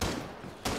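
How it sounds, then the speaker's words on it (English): Gunfire from shooting out cameras in the video game Rainbow Six Siege comes as two quick, fairly faint bursts, one at the start and one near the end of a very short moment. "so you obviously need to shoot them out."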